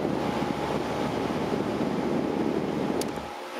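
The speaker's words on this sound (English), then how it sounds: "That fan is unbelievably powerful." Fan of a 1995 Lennox 4-ton air conditioner running, a steady, loud broadband whoosh of rushing air with a low hum underneath, constant throughout and cutting off at the end.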